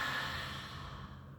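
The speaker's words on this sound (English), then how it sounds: "tune into the sound, the vibration of your breath" A single long, audible exhale through the mouth, close and breathy, tapering off softly.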